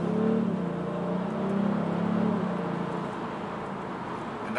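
2018 Kia Stinger GT in sport mode accelerating, its engine and exhaust heard muffled from inside the cabin as a rising drone that swells, then settles lower.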